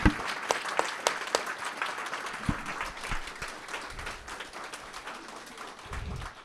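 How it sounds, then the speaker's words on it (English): Scattered applause from a reception crowd at an exhibition opening, honoring staff: a few sharp, separate claps at first, then a soft, thin patter of clapping that carries on at a moderate distance. "They absolutely deserve a huge round of applause."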